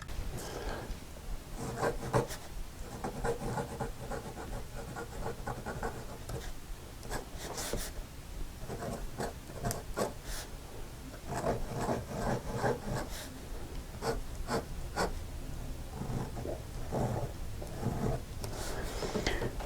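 A vintage Waterman fountain pen from the 1920s–30s, fitted with a flexible No. 5 nib, scratches and rasps across paper in close, steady strokes that stop and start, laying down wet ink with no voices.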